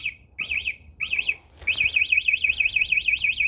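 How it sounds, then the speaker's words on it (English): Motion-sensor anti-theft alarm on an Aniioki A8 Pro Max 52V e-bike, sounding loud warbling electronic tones in short bursts that break off, then settle into a continuous rapid wail, close by and with no talk over it. "it'll start blaring, putting on the alarm if someone moves your bike."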